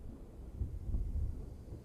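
A deep, low rumble of thunder rolls quietly for a couple of seconds as a sound effect during an online Dungeons & Dragons session, with no voices over it.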